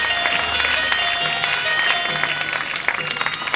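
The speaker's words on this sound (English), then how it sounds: "Please give them a big round of applause." Audience applause at a senior school concert in Karachi, Pakistan: a steady, dense wash of clapping from a large crowd, sustained at an even level throughout with a few sharper individual claps standing out.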